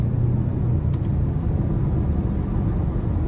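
Steady low rumble of a Genesis G80 2.5-litre turbo four under way, with a brief faint blip near the one-second mark during a paddle-shifted gear change; cabin drone stays constant throughout, no voices.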